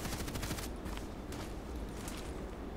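Gunfire from the online shooter Contract Wars, a dense burst of rapid shots at the start followed by scattered further shots over continuous game noise, with no talking.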